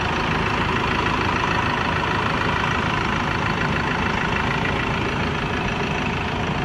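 A 2016 Ford Ranger XLS pickup with an automatic gearbox and a 2.2 turbo diesel engine idles close by, giving a steady, even rumble with a faint rapid clatter and no breaks.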